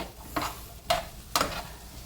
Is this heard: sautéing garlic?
yes